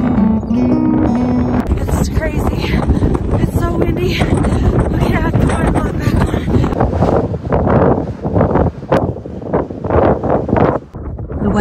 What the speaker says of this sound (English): wind gusts so strong they kept trying to blow me over